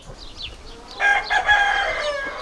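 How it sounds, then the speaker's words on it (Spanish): A Basque-breed rooster squawks and complains while being caught by hand, a few faint clucks first and then a loud, harsh burst of protest close by. "Este gallo no se deja tanto, este se queja, Santi."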